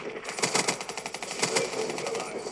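Rapid automatic gunfire in Call of Duty: Black Ops 3 multiplayer, an unbroken stuttering burst of shots that stays loud and close throughout.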